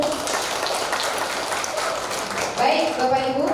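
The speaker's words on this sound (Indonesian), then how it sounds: "Tepuk tangan untuk Bruder." Audience applause for Bruder Petrus at a church training session, a dense crackle of clapping filling the room, swelling slightly toward the end as a voice begins to speak.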